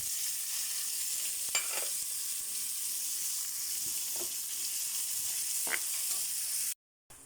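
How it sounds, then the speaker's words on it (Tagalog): Garlic and tomatoes sauté for pinakbet with a steady broad sizzle, close by. A few faint clinks of stirring sound over it before it cuts off near the end. "Gigisa na tayo para sa pinakbit."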